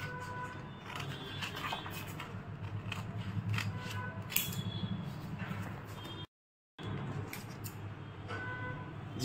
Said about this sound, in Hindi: और फिर उसे सीजर से काट लें